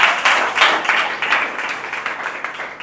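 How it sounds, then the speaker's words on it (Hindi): A crowd of listeners bursts into loud applause for a guest speaker at an SSC GD coaching event, brisk close-up clapping with a slightly pulsing rhythm that continues throughout and fades a little toward the end, with no speech over it. "इनके लिए जोरदार ताली।"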